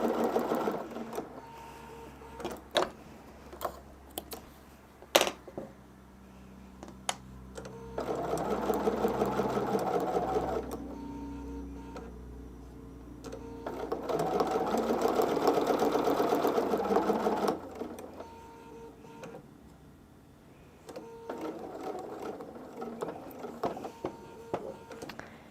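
A sewing machine stitches Christmas quilt fabric in bursts of rapid, even whirring, with a few clicks and handling noises between runs, close and moderately loud.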